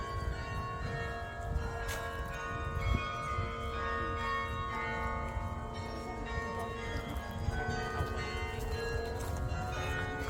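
Carillon bells of Bok Tower ring out steadily across the gardens by a small lake, overlapping tones sustaining in a rich, continuous peal heard from a distance.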